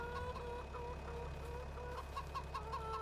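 Chickens in Farming Simulator 25 cluck repeatedly over a steady low hum, the soft clucks coming in short scattered bursts throughout.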